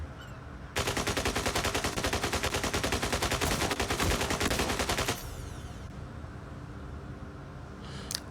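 Rapid-fire mech guns in the video game Mech Arena let loose a loud, dense burst of automatic fire for about four seconds, then drop to a lower mechanical rumble and a brief final crackle, with no voice over it.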